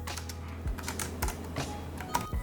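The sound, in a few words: typing on a Bluetooth keyboard with a tablet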